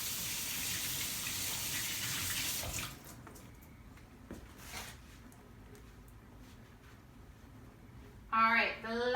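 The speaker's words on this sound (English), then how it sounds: "I need to wash my hands because I just got egg on it" Tap water runs into a kitchen sink during hand-washing, with a strong steady gush for about three seconds before it cuts off. Quieter handling noises and a short burst of speech follow.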